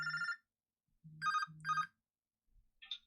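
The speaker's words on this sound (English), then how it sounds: "Judd's ringing me." A phone ringtone signals an incoming call: three short melodic bursts, fairly quiet and heard alone, with a faint electronic chirp at the end.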